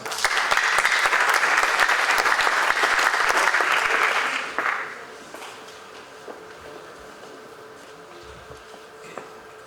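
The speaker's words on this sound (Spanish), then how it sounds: "Vamos a recibirlo por favor con un fuerte aplauso." An audience at a workshop on a pension bill gives a speaker a strong round of applause that dies away after about four seconds, followed by quiet room tone with occasional small taps and shuffles.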